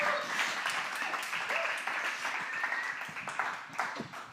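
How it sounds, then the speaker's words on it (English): A church congregation claps for Pastor Hannah, a fairly quiet, loose patter of hands with a few louder individual claps, tapering gradually toward the end. "So please, a round of applause for the pastor of disaster"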